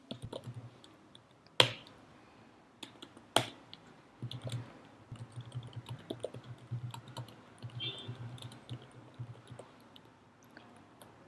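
Computer keyboard tapped while writing HTML code, with two sharp isolated clacks followed by a quiet, irregular run of soft keystrokes in a still room.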